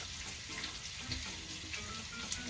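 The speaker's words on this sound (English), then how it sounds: "we're gonna have to get a lid for that and a little bit of water in there to steam cook those a little bit" Water hits a hot pan of beef medallions, bok choy and cabbage, giving a faint, continuous hiss and sizzle of steam with small crackles, no talk over it.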